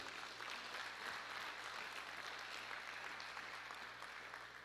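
Distant applause from a church congregation, faint and continuous, a soft wash of clapping with no speech over it.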